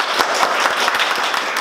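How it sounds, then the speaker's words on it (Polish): Scattered clapping from a small audience at an investor club talk in Łódź, as a speaker named Marcin is welcomed. It is brief and uneven, with individual hand claps standing out above a thin bed of applause. "Gorące brawa dla Marcina."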